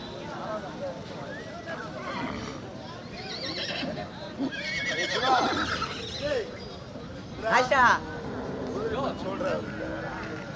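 Horses neigh and whinny repeatedly at a busy horse market during the Thiruvannamalai Deepam festival, with hooves clip-clopping and a crowd murmuring throughout. Several loud whinnies rise above the chatter at mid-distance.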